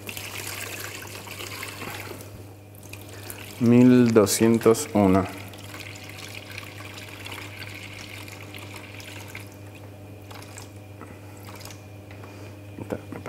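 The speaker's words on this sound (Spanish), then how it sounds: "El agua que estoy usando el agua directo de la canilla, del grifo." Tap water runs from a kitchen faucet into a bowl while sourdough bread dough is being mixed. The thin, steady trickle continues throughout, and a voice speaks briefly partway through.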